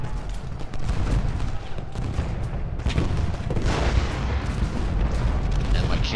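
Cannon fire in the Ultimate General Gettysburg war game, repeated booming blasts and rumbling artillery volleys layered into a continuous loud battle din.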